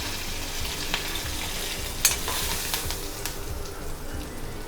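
Mustard seeds, urad dal, cumin, curry leaves and a little turmeric frying in oil in a pan; a continuous sizzle with small pops and a few sharp crackles, the loudest snap near the middle, and no talking.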